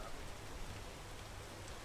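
Steady rain falls in a video game, a faint, even hiss of dense drops with no voices, continuous and unbroken across the short stretch.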